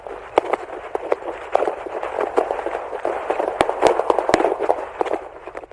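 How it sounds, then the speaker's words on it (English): Gunfire heard from inside a CHP patrol car during a hostage incident in Sacramento, a rapid string of sharp cracks and pops over a muffled rushing background, continuing without pause. "what you're hearing is gunfire that seems endless"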